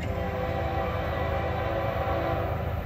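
A train rumbles steadily past a level crossing on a freight line, a loud continuous roar of wheels and engine heard close by, with no talk over it.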